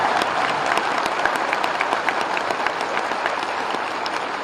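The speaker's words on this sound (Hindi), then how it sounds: "अगर दिल करता है ताली बजाने का तो बजाइए।" An audience at a political gathering in India breaks into loud, sustained applause, with dense clapping from many hands that holds steady throughout.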